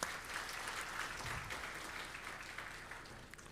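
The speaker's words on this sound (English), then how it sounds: "I think she needs another round of applause" Sustained audience applause fills the room at a census preliminary report launch, steady and dense throughout with no speech over it.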